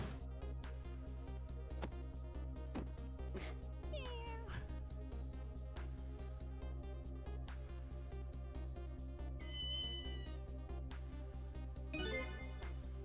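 A black cat meows in a video game, a few short mewing calls rising over continuous background music and game sounds.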